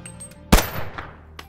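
A single loud gunshot from the Auto 44 Mag handgun in BoneLab, a sharp broadband crack followed by a short ringing tail and faint mechanical clatter, alone with no talk.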